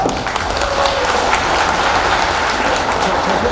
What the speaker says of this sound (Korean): 그 조정철 그 회장님 큰 박수로 맞아주시기 바랍니다.